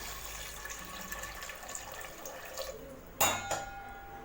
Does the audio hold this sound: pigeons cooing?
no